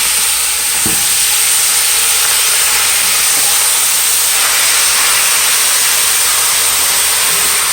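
Loud, steady sizzling of chicken feet frying in a hot pan, a dense continuous hiss with an occasional clink, close up and without talking.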